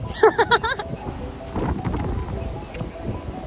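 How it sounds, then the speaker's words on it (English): Gusty wind buffets the microphone in a steady rumbling roar outdoors in Budapest, Hungary, with a few short bursts of voices and sharp sounds at the start. "It's so windy!"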